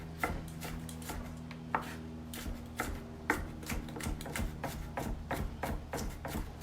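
Kitchen knife chopping onions on a board for a chunky vegan salsa fresca: a steady, close run of crisp, fast cuts with a few louder strikes, heard alone without talk.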